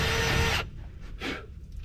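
A power drill spins a loose-fitting bit to clear packed wood from a threaded bolt hole in a diamond disk mulcher tooth, a close whirring burst that stops, followed by a short second buzz.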